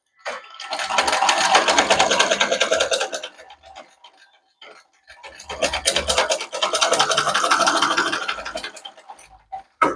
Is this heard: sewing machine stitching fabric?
yes